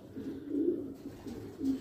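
Pigeons cooing softly in a loft, a few low murmuring coos in quick succession, close but quiet, with no voices.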